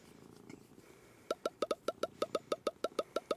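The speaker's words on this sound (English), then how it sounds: "I love hearing the purring." A contented pet cat purrs close by in a steady run of about a dozen rhythmic pulses, after a brief quieter stretch of soft background noise.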